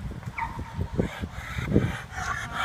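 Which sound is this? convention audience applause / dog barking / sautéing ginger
dog barking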